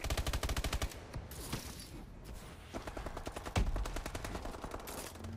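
Rapid bursts of automatic gunfire from the Call of Duty: Advanced Warfare video game, dense rattling volleys with single shots and a heavy blast, loud and continuous throughout.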